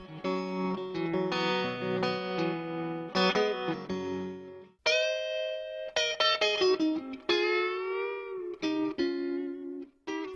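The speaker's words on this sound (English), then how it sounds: "Both the AC30 and AC15 feature a warm tremolo with speed and" An electric guitar through a VOX AC15 or AC30 amplifier plays clean chords and single notes whose volume pulses in a wavering tremolo, with no voices present.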